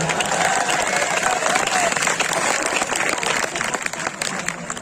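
An audience at a Hindi poetry recital (kavi sammelan) in Pachore claps in a steady, dense wash of applause that eases slightly near the end.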